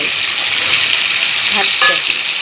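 Sajna drumsticks fry in a pan with a steady, close broadband sizzle that holds throughout, punctuated by a couple of soft stirring clinks near the end.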